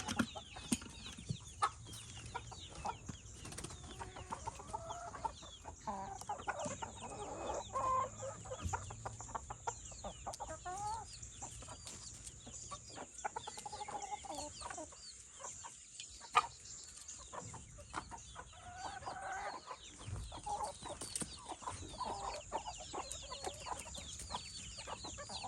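Farm chickens cluck and murmur continuously at a moderate distance, overlapping soft calls with an occasional sharper squawk, steady throughout with no talking.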